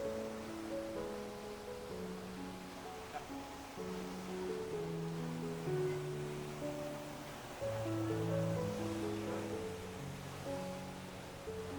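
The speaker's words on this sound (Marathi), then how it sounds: "इथं आपण धबधब्याच्या किती जवळ आहोत पाहू शकता तुम्ही" A waterfall beside the Shivthar Ghal cave, a rock shrine in Maharashtra, gives a constant soft rushing hiss that stays even throughout, overlaid by low sustained droning tones.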